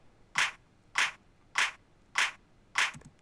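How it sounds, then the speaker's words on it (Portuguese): Five evenly spaced hand claps ring out alone, sharp and close, each landing on every third pulse of a steady rhythm. "de 3 em 3 vai ser articulado o ritmo, ou bate-se palmas"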